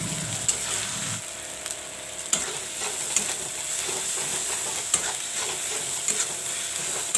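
Chili powder, turmeric and masalas fry in a pan for egg curry, giving a soft, continuous sizzle with scattered scraping clicks from stirring, fairly quiet and close.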